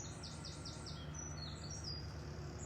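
Bright, repeated blackbird chirps and song phrases ring out over a steady low background rumble, moderately distant, with no voices.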